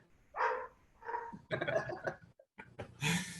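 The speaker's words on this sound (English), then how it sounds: "My dog's downstairs barking, wanting to go outside." A dog barking from downstairs in a house, a few sharp barks and yips mixed in with talk, muffled and moderately distant.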